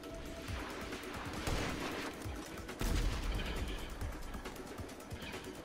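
Rapid gunfire rattles through a video game firefight, dense bursts of shots from several directions with a couple of louder volleys, continuous and close with no speech.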